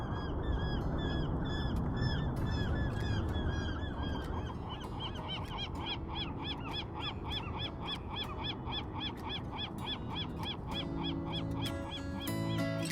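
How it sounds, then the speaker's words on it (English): Birds, mostly geese, honk again and again on the Coronado shore at sunrise, a busy, rhythmic chorus of calls above a steady wash of ocean and open-air noise. "just listening to the sounds of the birds"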